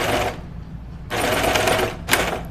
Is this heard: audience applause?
no